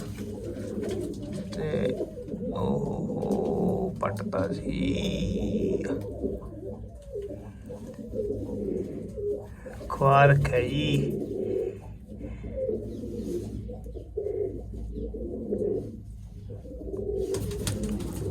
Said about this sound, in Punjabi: ਕਬੂਤਰੀ ਨੂੰ ਪਿਆਰ ਨਾਲ ਚੱਕ ਕੇ ਤੇ ਦੇਖਦੇ ਆ